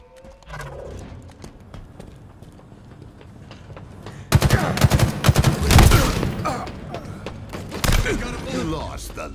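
Gunfire in Halo Infinite multiplayer, sporadic shots at first and then dense, loud automatic bursts with rapid cracks, with a voice speaking over the action.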